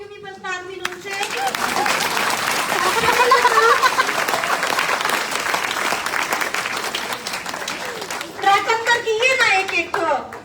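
An audience bursts into loud, sustained applause, many hands clapping together in a dense wash that swells and holds, with voices heard briefly at the start and a renewed surge of clapping near the end.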